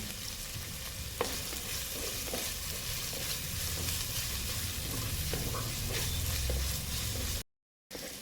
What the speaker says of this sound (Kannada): ಈರುಳ್ಳಿಯನ್ನು ಸ್ವಲ್ಪ ಹೊತ್ತು ಫ್ರೈ ಮಾಡುವ. ನೋಡಿ, ಇವಾಗ ಇದಕ್ಕೆ ನಾನು ಸ್ವಲ್ಪ ಕರಿಬೇವಿನ ಸೊಪ್ಪನ್ನು ಕೂಡ ಹಾಕ್ತಾ ಇದ್ದೇನೆ